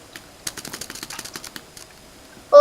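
A computer keyboard is typed on in a quick run of sharp clicks during Minecraft PvP play, then there is a brief pause and one loud, heavy space bar press to finish.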